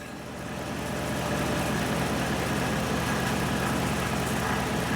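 A 2013 Ram 1500 4x4 3.6 V6 engine idling in drive with borderline low oil pressure, a constant low rumbling hum with a broad mechanical whir, rising slightly at the start.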